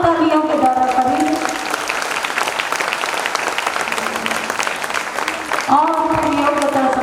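An audience at a Jain religious discourse breaks into sustained applause, dense clapping that swells in the middle, with a voice speaking over it at the beginning and end.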